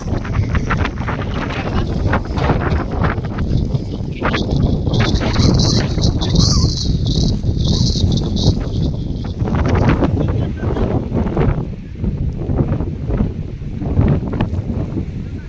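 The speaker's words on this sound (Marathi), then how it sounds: "एवढी जास्त हवा आहे ना इकडे की माणसाला पार मागं ढकलते." Strong monsoon wind at a hidden spot in Ratnagiri roars steadily and loudly into the microphone, buffeting and rumbling throughout with gusts rising and falling, and a person speaks underneath it.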